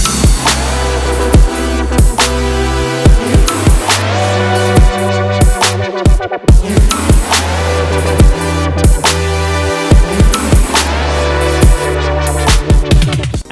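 Loud, lush future bass synth chords that swell and pulse in a rhythmic pattern, with punchy bass hits beneath, played alone without any voices.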